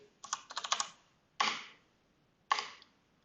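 A password is typed on a computer keyboard: a quick cluster of clicky keystrokes, then two separate single key presses spaced about a second apart, close and clear against a quiet room.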